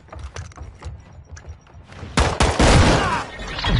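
Shotgun blasts loaded with flaming rounds in a PS4 shooter, a dense burst of loud, close shots and thuds in the second half after quieter clatter.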